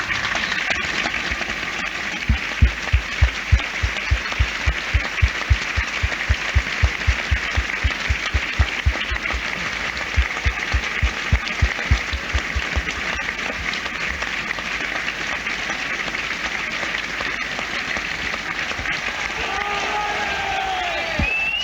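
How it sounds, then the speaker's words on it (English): Stadium crowd at Turf Moor, Burnley against Cardiff, applauding steadily for a one-minute tribute after a referee's whistle, a dense sustained wash of clapping with faint cheers and a rhythmic thumping in the first half. "join a celebration of Ian's life with a 1 minute's applause"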